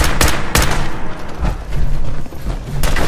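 Loud, close gunshots from the video game Fallout, four or so sharp bangs at irregular intervals over a rumbling game background, with no talking.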